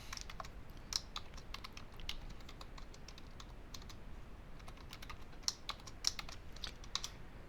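Quiet, scattered keystrokes on a computer keyboard, typed one at a time in an irregular rhythm with a few sharper clicks standing out, close and fairly soft with no voice.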